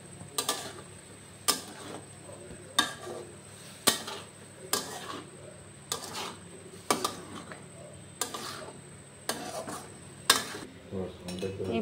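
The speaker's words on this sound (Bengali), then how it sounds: "এবার একটু মিশিয়ে নেব" A spoon scrapes and knocks against a pan in a steady rhythm, about one stroke a second, while small fish are mixed with turmeric and salt. The strokes are close and fairly clear over a faint background hum.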